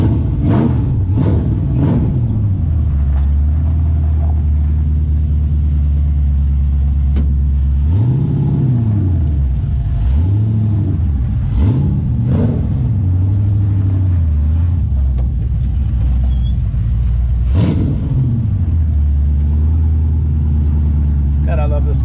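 A Sand Limo Cruiser car engine idles with a deep, close rumble, punctuated by several sharp revs that rise and fall, while someone talks over it at times.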